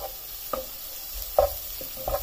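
Turmeric powder sautéed into softened onions in a pan on medium flame, a quiet steady sizzle with a few short scraping stirs of the spoon, close by and without speech.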